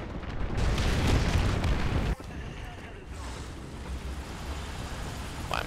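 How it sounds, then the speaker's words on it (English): Artillery shells pounding a position in the tank combat game War Thunder, a heavy continuous rumble of blasts that cuts off sharply partway through, then settles into a lower, ongoing roar of battle. "they're dropping artillery all over my position"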